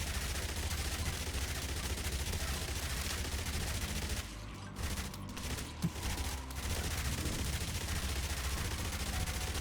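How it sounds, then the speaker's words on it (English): Rapid continuous minigun fire from the video game Yet Another Zombie Survivors, a dense unbroken roar of gunfire that briefly dips midway before resuming at full intensity. "We do so much damage with this minigun. It just drains these bosses so well."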